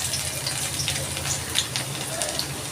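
Chopped garlic, four or five cloves, sizzles in hot oil in a pan where dried red chilies were just fried, a steady close crackling hiss with no talking.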